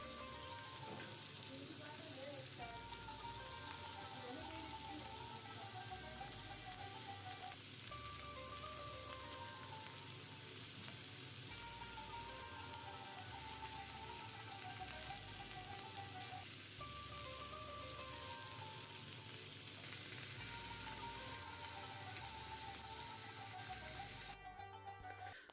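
Salmon skewers in an oriental marinade cook in a pan with a continuous, faint, crackling sizzle, steady throughout, with occasional soft stirring or handling noises.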